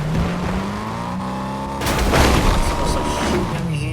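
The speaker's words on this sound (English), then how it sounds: "Someone's like shooting at me here" Gunfire and a heavy boom in Fortnite Chapter 5 Season 3, loud and continuous, with a dull explosive thump swelling midway over a droning engine-like tone and game effects.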